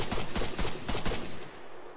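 Rapid automatic gunfire from the Arma 3 Altis Life video game, a burst of loud closely spaced shots in a stuttering rhythm that stops abruptly after about a second and a half, leaving a short fading tail.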